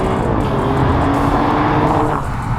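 An Alfa Romeo Giulia Quadrifoglio's exhaust roars loudly and continuously, a strong, throaty engine note with rising revs.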